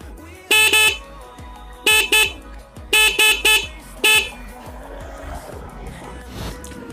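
A Honda GL Pro motorcycle horn, fitted with a relay, blares close up in six loud honks: a single long blast, a double, a quick triple, then one more, each ringing with strong harmonics.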